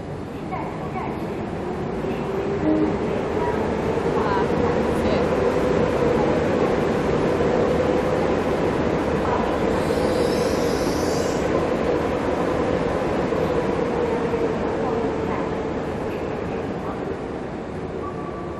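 A train on the Qinghai-Tibet Railway, the world's highest line, has its electric locomotive changed, giving a steady mechanical rumble with a faint rising squeal near the middle as a person talks over it.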